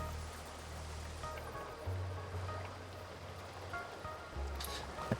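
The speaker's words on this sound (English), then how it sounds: "Water extractor." Water extractor machine in the factory-building video game Satisfactory, running with a steady low mechanical hum and rushing, watery churn, plus occasional clanks, continuous throughout.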